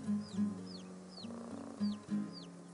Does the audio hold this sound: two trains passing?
no